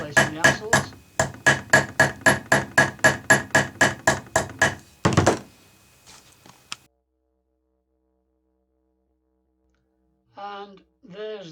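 Rapid metal hammering on a small Matchbox Ford Zodiac die-cast model car's axles, about twenty sharp, evenly spaced taps close by, then a few scrapes, silence and a short burst of voice.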